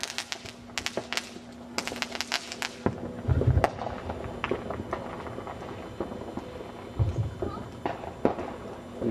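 Fireworks go off across a suburban neighborhood on the 4th of July in 2007, cracking and popping at varying distances in irregular bursts and rapid strings, while people talk nearby.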